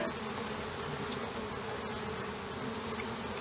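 Honey bees drone in a steady, dense buzz around an open hive, the hum continuous and fairly close throughout with no pauses.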